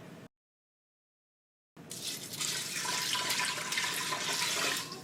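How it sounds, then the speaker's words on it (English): Cold filtered water pours into a pot of rinsed rice, a brief sound, then silence, then a steady splashing rush that builds and keeps flowing near at hand. "I've got about 2 2/3 cups of cold filtered water, and I'm going to add that in along with a little pinch of salt"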